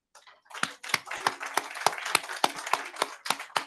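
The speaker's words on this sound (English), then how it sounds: "please give a big round of applause to Linda Rashke" A small online audience claps for a guest speaker being introduced, about a dozen distinct hand claps in an uneven rhythm, fairly close and moderately loud.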